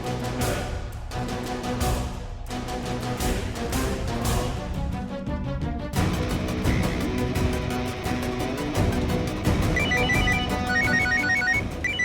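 A phone ringtone plays a melodic, repeating electronic tune at close range, steady and prominent for the whole span with no talk over it.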